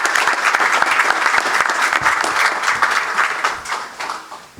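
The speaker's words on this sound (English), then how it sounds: "Let's give all our staff, our student athletes a round of applause" A press conference crowd gives a warm round of applause for staff and student athletes, a dense burst of clapping that eases off toward the end.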